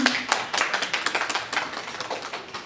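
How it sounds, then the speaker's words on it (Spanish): An audience claps for a film director joining a panel remotely, producing a short burst of dense, fairly close handclaps that holds steady for a couple of seconds and then thins slightly. "Un aplauso, claro."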